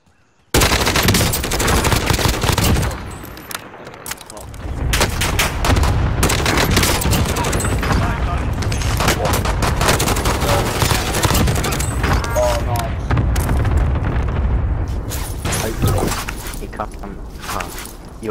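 Call of Duty: Warzone gunfire, loud sustained bursts of automatic weapons with dense rapid shots and brief pauses, close and nearly continuous, with a voice talking over it.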